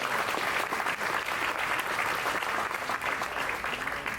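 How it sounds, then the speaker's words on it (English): An audience at a barber event in Dallas, Texas breaks into loud, sustained applause, dense clapping filling the room continuously throughout. "Y'all give them a round of applause as well."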